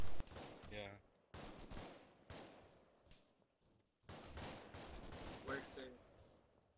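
Sustained bursts of rifle and machine-gun fire in the video game Arma 3, a military realism unit operating near a Mark 19 MRAP, coming in rapid volleys with short lulls while voices speak over the radio.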